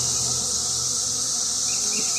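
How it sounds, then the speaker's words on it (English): Honey bees at an open hive make a dense, steady buzz close by, with a continuous drone and no other sounds. "Nice calm bees."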